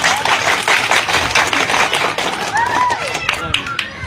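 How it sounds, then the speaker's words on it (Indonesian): Applause at a village ceremony in Banjarnegara rings out as a dense, loud patter of many hands, with voices and chatter in the crowd throughout. "Tepuk tangan."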